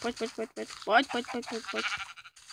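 Sheep in Minecraft Pocket Edition bleat in a quick run of short, bright game calls, about a dozen in under three seconds, close and clear with no other sound around them.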